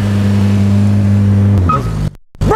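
A 1986 Honda car revs loudly up close as a valet drives it off, a droning engine tone that climbs and shifts before cutting out briefly and returning.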